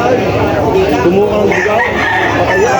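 Roosters crow over a dense background of clucking chickens and crowd chatter at a market in Lemery, loud and continuous, like a busy poultry market.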